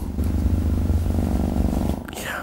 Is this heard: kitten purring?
yes